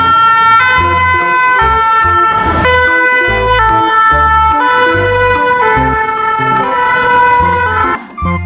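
Toy police ambulance siren blaring loud and close, a repeating electronic two-tone wail with rhythmic low thumps, running continuously before cutting off near the end.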